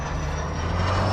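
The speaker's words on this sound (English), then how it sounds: "there's a plane flying over me" A propeller airplane drones overhead, a steady low rumble that swells slightly louder toward the end, heard alone with no talk.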